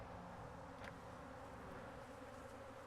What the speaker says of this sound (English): A lot of bees there.